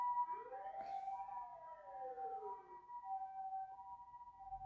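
An emergency vehicle siren wails with a slow rising and falling sweep as it passes, moderately loud, alongside a steady electronic tone, with no talking.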